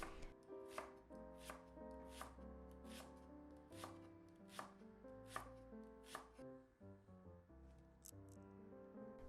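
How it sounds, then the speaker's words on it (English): A knife slices diagonally through long green onion on a cutting board, giving about eight crisp, evenly spaced chops over a quiet background with soft music. "Slice long green onion diagonally."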